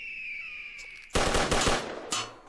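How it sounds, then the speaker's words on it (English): A sudden loud gunshot burst in the VR western shooting game Quick Draw, breaking after a quiet tone, with a second shorter shot or echo near the end. "Oh, I got shot that time."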